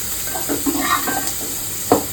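Mustard seeds spluttering in hot oil in a home kitchen pan, with a few sharp pops and crackles over a soft continuous sizzle, heard up close and without speech.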